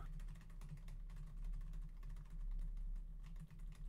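Typing on a computer keyboard during an Among Us game session: a quiet, steady run of rapid key clicks over a low background hum, with no voice.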